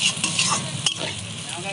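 Cauliflower and potato stir-frying in a pan as poppy seed paste goes in, a brief close sizzle with stirring and one sharp utensil knock.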